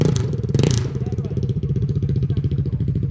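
Engine of an LTR quad with its exhaust fallen off, close and loud: a brief raspy rev up front, then a rough, rapidly pulsing idle that thumps steadily to the end.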